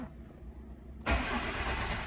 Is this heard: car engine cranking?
yes